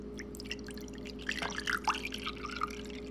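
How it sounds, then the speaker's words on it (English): Water pours in a short run into a bowl set on a digital kitchen food scale, with a few close, bright splashes and drips and no talking. "now I'm gonna add some water"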